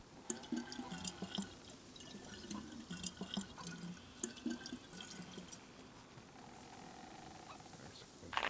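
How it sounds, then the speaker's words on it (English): A water bottle is being filled at a source in the DayZ survival game, with a quiet trickle and drips and faint thuds over a low background. "Fill up this bottle."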